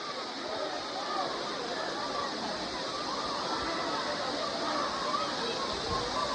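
Kailasakona waterfall near Tirupati roars as a constant broadband rush of falling water, steady and fairly loud for the whole stretch, with indistinct voices faintly beneath it.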